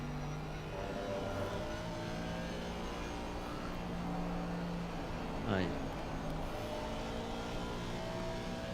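Race car engine in Assetto Corsa Competizione, an Aston Martin on Watkins Glen during a 4-hour endurance race, droning loudly and steadily with shifting engine tones and a quick rising sweep near the middle while a voice talks over it.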